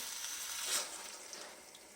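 Water being poured into a pan of quail gravy, a soft, steady hissing pour with a brief swell in the middle, close and fairly quiet, with no voices.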